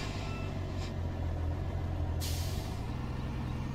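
A truck's air brake in the farming game Farming Simulator 19 releases two sharp pneumatic hisses, a short one followed by a louder burst, over a steady low engine idle with no talking.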